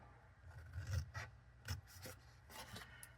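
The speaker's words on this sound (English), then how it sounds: "Trim off that little score line and cut up here." Soft rasping and rubbing as a paper score line on a Stampin' Up! cardstock box is trimmed and cut, a few quiet scratchy strokes close to the microphone.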